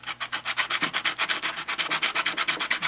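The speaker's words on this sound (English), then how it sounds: "take 150 or 220 grit sandpaper or emery cloth and just kind of" Rapid back-and-forth rubbing of 150 or 220 grit sandpaper or emery cloth over an N scale model railroad rail to clean off gunk, a steady rhythmic scratching of about seven strokes per second, close and alone.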